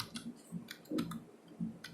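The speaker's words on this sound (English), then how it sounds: "for which we will be typing" Light clicking of keys on a computer keyboard, a few scattered quiet taps close by with no talk over them.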